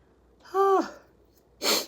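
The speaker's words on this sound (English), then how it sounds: "I feel like I'm going to sneeze" A breathy intake followed a moment later by a single sharp, loud sneeze, close by with nothing else around it.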